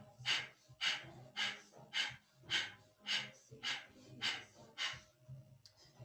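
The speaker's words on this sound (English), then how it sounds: "Begin breath of fire." Rapid breath of fire during a Kundalini yoga back-healing kriya: about nine sharp, forceful nasal exhalations in a steady rhythm, close and clear, with no talking.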